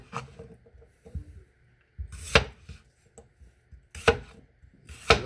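Sharp knife cutting Yukon Gold potatoes on a cutting board, with light scraping followed by three crisp, loud chops spaced about a second apart, close up.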